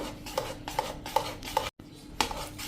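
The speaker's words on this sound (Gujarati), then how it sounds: "આ રીતે આપણે એને 1-2 મિનિટ આ રીતે ચમચો ચલાવી લેવાનો" A spoon stirring cream in a pot to make ghee, a soft repeated rhythm of scraping strokes with light metallic clinks about every 0.4 seconds, one brief gap, quiet and close.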